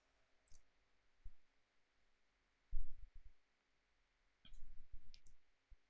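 Computer mouse clicks, a few sharp isolated taps early on and two tight clusters of quick clicks later, close and faint over a quiet low hum.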